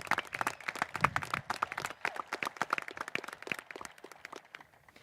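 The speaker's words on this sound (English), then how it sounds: "let's hear some pretty loud applause for this class of nearly 500 graduates" Loud sustained applause and clapping from a large graduation-ceremony audience honoring a high school class of nearly 500 graduates, dense and continuous throughout, slowly thinning toward the end.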